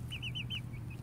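Four-week-old Ameraucana chick cheeping close by, a quick series of four high peeps followed by two fainter ones over low background hum.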